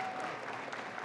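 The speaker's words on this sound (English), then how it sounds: "Antonio Delgado, let's give him a round of applause." Crowd applause at a Planned Parenthood day of action for Lieutenant Governor Antonio Delgado, a brief dense burst of steady clapping.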